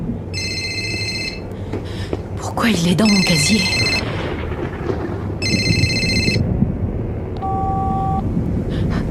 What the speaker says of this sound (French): c'est son téléphone